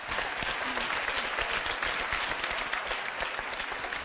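Audience at a televised charity event in Turkey applauds loudly and steadily for about four seconds, a dense unbroken wash of clapping from a large crowd.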